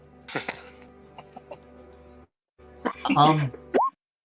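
Someone coughs and splutters a few times, with throaty vocal noises between the bursts and a short rising voiced sound at the end.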